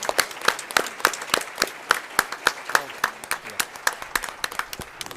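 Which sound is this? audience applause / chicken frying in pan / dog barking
audience applause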